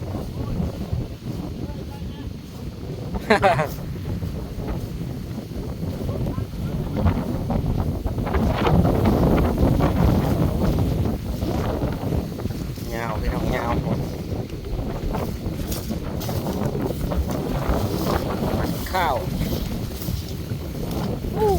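Steady outdoor wind buffets the microphone across a rice field during sheaf tying, a constant broadband rush with gusty swells, while someone talks over it in Thai.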